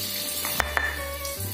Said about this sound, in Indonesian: Ini bumbunya mau saya tumis sebentar aja